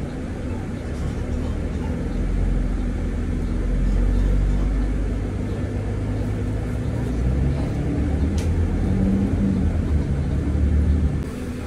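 A Dubai metro link bus serving the Sonapur station rumbles steadily from inside the cabin as it drives, with a low continuous engine and road drone and faint rattles throughout.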